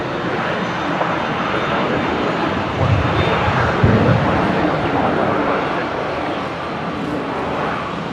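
A Virgin Australia airliner arriving from Melbourne on runway 19 left at Brisbane International Airport, heard as a steady, broad engine roar holding at moderate distance over about eight seconds, with faint voices in the background.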